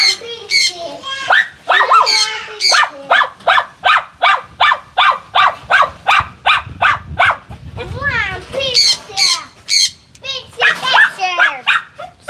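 Dog barking in a rapid, steady series of loud, close barks with some growling, continuing for several seconds, with people talking over and between the barks.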